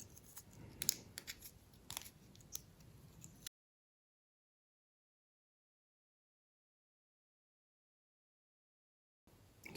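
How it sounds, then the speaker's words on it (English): Good metal snips cut small detail parts for a 1/200 scale IJN Mikasa model ship, giving a few close, sharp clipping snaps over a quiet background before the sound cuts to silence. "So I should be using these good snips for this."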